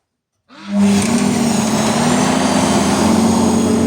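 A homemade grain winnower built from a 200-liter barrel starts up after a moment of silence and runs loud and close, its motor rising into a steady, high hum with a low drone beneath.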